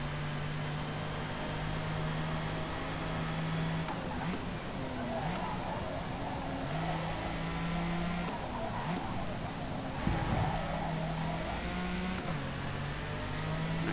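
A classic sport race car engine in Forza Motorsport accelerates, its steady drone rising and shifting through gears, held at moderate level beneath continuous talking throughout.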